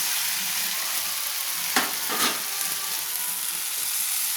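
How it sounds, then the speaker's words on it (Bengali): Fried eggs sautéing with spices in a pan for egg kosha, a steady close sizzle with a couple of brief louder stirring scrapes in the middle. "দিয়ে আমি কষিয়ে নিচ্ছি, মশলার সঙ্গে ভালো করে কষিয়ে নিচ্ছি"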